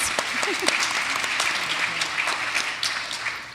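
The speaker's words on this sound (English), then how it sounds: "round of applause" A room full of people at an evening talk event claps steadily, a dense wash of applause with a few louder hand claps standing out, heard from among the audience.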